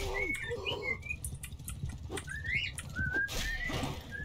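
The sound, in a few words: bird singing in Mount and Blade II Bannerlord video game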